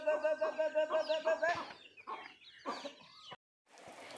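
Free-range chickens and their chicks foraging outdoors at a rural home: a quick run of shrill chick peeps, then a hen's close, busy clucks and calls, a short silence, and more clucking.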